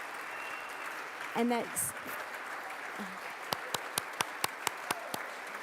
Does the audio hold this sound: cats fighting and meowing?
no